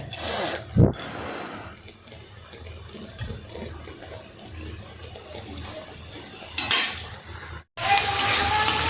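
Onion, beans and capsicum go into hot oil in a wok, with a steady close sizzle broken by stirring scrapes, a louder burst of hissing near the end and no talk.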